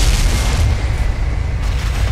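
A loud booming explosion in the video game Unreal Tournament 3 fills a short span with a deep, sustained rumble and no voices over it.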